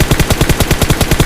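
An M4 rifle with a 6x scope sprays continuously in PUBG Mobile: a loud, rapid string of about a dozen evenly spaced shots fills the whole moment with no pauses.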